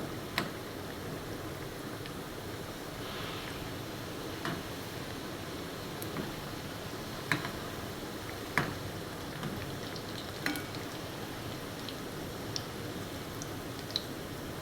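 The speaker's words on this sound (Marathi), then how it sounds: "हे तळून घेऊया आपण." Vidarbha bittya snack frying in hot oil, a steady soft sizzle and crackle with scattered small pops and ticks throughout, close and alone with no talk.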